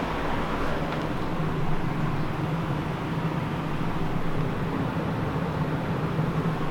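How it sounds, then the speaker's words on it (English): Wood pellets burning in a rocket stove, indoors in a basement, give a steady, dense roaring rumble with no clear breaks, loud and even throughout. "That sound is the rocket stove running on pellets."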